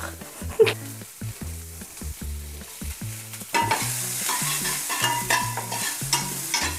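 Onions frying in onion oil in a pan, with a spoon scraping and clinking against the pan in a quick regular rhythm and sizzling that grows louder and fuller partway through, close up and with no voices.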